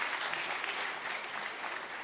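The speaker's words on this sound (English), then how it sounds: "A round of applause to our amazing panelists." Brief, steady applause from a summit audience for a panel of speakers, a moderately distant, even patter of many hands clapping.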